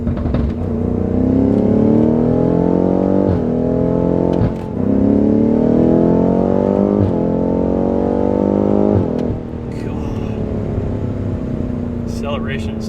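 A BMW M5 CS pulls hard under acceleration, its engine note climbing in long steady sweeps that reset briefly at each gear change before easing off near the end, loud and close from inside the car.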